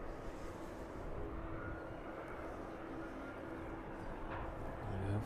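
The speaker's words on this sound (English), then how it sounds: "just passing the runway threshold. There we go, just touching down now." An aircraft landing at East Midlands Airport, heard as a steady, broad jet roar from some distance with no clear breaks, building slightly toward the end.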